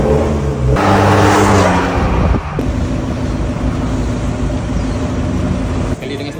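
A 2024 Ford Ranger Platinum pickup with dual tailpipe exhaust revs up loudly close by, its engine note rising and settling into a steady idle rumble, with people talking over it.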